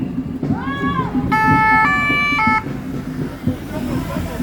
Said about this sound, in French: Attention les pompiers, attention les pompiers, attention les pompiers.